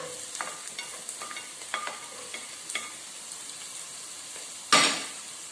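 Chopped ginger and garlic sauté with onions in a pan, a quiet sizzle under scattered light scraping stir strokes, closing with one louder clatter near the end.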